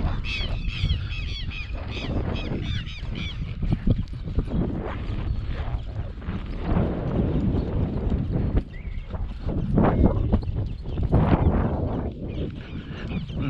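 A Quarter Horse mare named Juliana walks along, her hooves clip-clopping in a steady rhythm close by, with goose-like honking and farm noise mixed in.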